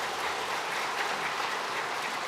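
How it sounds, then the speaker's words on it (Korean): A church congregation claps together during a Sunday worship service to welcome new members. The applause is dense, steady and sustained throughout, with no voices over it. "다 같이 박수로 환영하도록 하겠습니다"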